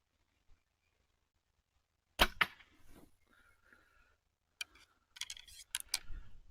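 The first shots from a new Dragon X7 bow: a sharp string snap and thwack, then a burst of quick clicks and rattles as more arrows are loosed, all fairly faint and close in an otherwise quiet setting.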